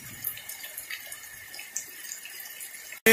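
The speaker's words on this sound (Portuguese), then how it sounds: "A enxurrada que tá descendo aí de cima." Flood runoff from heavy rain rushes down from the hills behind a house, a faint, steady watery wash with small splashing ripples, heard alone until it cuts off at the end.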